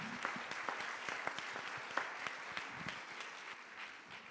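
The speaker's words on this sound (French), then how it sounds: "Après les applaudissements" Conference audience applauding in a hall, a steady wash of many hands clapping with sharper individual claps standing out, moderate level throughout and easing slightly toward the end.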